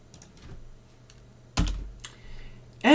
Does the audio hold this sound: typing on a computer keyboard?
yes